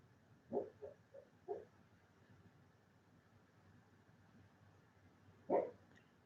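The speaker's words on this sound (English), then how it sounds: "It's the dog in there barking in her sleep." A sleeping dog lets out soft muffled woofs indoors: a short cluster of four quiet yips early on, then a single louder bark after a pause, over a faint steady background hum.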